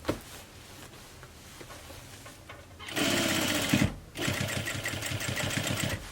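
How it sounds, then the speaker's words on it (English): A sewing machine stitches along the edge of a reversible grocery tote bag, starting faintly and then running loud and close in two steady whirring bursts with a brief pause between. "Then we're just going to sew right to the edge."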